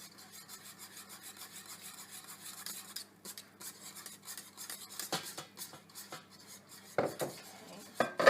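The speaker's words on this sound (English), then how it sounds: "Combine your egg with the custard very well, a little at a time." Metal whisk scraping and rubbing inside a pot as egg is beaten into custard in a busy live kitchen, a steady close rhythmic scratching with sharper clinks and louder strokes toward the end.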